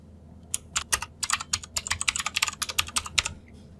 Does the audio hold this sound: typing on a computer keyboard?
yes